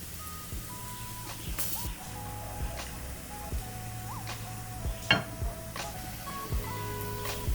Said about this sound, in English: we're just going to fry them now and use them as little tacos